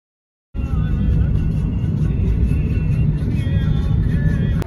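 A car driving on the road, heard from inside as a steady loud engine and road rumble that starts abruptly after a short silence and holds constant to the end.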